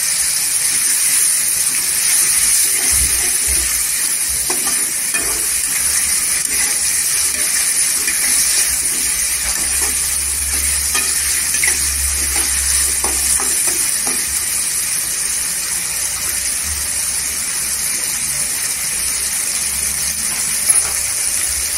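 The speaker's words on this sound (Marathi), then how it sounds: "इथे अद्रक लसूण याची पेस्ट केलेली आहे ती टाकायची।" Ginger garlic paste sizzles steadily and loudly in a hot pan while dry prawns (sukhi karandi) cook, a dense, constant frying hiss that lasts the whole stretch.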